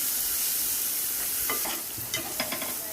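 Green chillies and curry leaves sauté with ground shallots in a pan, giving a steady, hissing sizzle broken by a few scraping stirs near the end.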